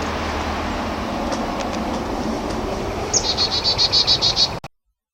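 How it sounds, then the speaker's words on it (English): A Carolina chickadee sings a sharp high note followed by a quick run of repeated buzzy notes, heard over a steady low rumble of passing train noise before the sound cuts off abruptly. "His song is chickadee-dee-dee."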